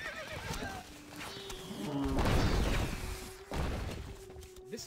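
A horse neighs loudly in the Stronghold: Crusader video game, a long whinny followed by clip-clop hooves and a thud, with game effects around it.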